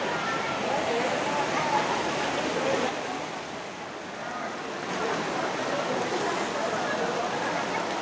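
Steady rain pours down around a crowded forest coffee shop, Kopi Kembang Langit in Blado, Batang, a continuous loud hiss with a brief dip midway, mixed with murmuring voices.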